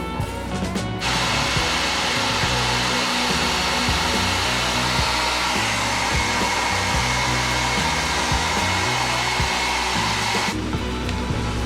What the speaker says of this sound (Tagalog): Blower naman tayo guys.